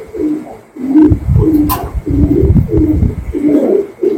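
A white American fantail pigeon coos close by in a loft, a run of about six low, rolling coos in a steady rhythm, loud and clear with no talk.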